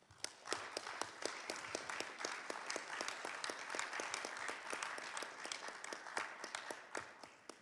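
An audience claps for a speaker at a formal address about Bonaire's path to self-determination at the UN General Assembly, steady rhythmic claps ringing out in a sparse, echoing hall, fairly faint and without talk.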